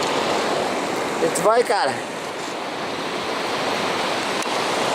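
Sea surf rolls steadily at a beach, a constant wash of breaking waves with wind buffeting the microphone, while someone briefly speaks over it.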